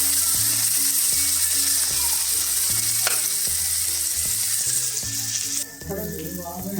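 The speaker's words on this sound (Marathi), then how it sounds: "कांदा चांगला आपल्याला गोल्डन ब्राऊन मस्त परतून घ्यायचा आहे. टमॅटो घालायचं आहे बारीक चिरलेलं. चांगलं परतून घ्यायचं आहे." Chopped onion and finely diced tomato sautéing in a pan for an Indian cauliflower dish, a steady close sizzle with repeated scraping stirs of a spatula, slightly quieter near the end.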